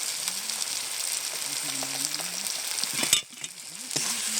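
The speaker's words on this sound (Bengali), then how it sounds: "লবণ হলুদটা দিয়ে আমি বেশ সুন্দর করে মশলাটা কষিয়ে নেবো" A tomato, salt and turmeric masala frying in a pan for a spicy fish curry, a soft steady sizzle with faint scraping from stirring and a brief clatter near the end.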